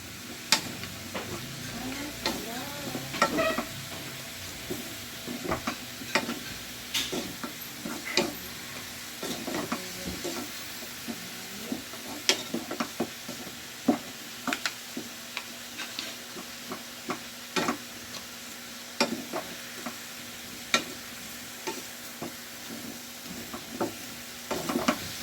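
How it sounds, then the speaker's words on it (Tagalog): Batangas-style caldereta sizzles steadily in a pan while a spoon stirs it, with frequent sharp scrapes and taps against the metal over a constant frying hiss. "Haluin na muna natin mga sama."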